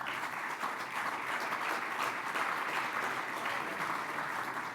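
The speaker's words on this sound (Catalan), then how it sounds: "demano un fort aplaudiment per ell" An audience at a Catalan venture-capital anniversary event gives a speaker steady, even applause, moderately quiet and continuous for several seconds.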